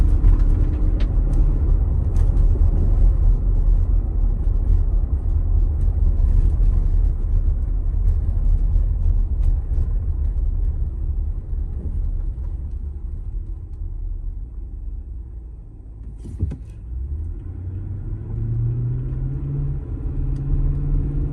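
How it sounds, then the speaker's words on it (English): A 2017 Nissan Armada with a bad left front strut drives over bumpy chip-and-tar road, giving a continuous low cabin rumble with scattered knocks and thumps; the road noise dips and then rises again near the end. "Does have a bad left front strut. You might be able to hear that as I'm going over the bumps."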